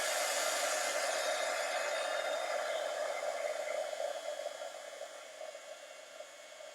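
A heat embossing tool blows steadily while melting embossing powder for a leaf-dipping craft technique, a continuous close airy whoosh that holds loud and then eases slightly toward the end, with no talking.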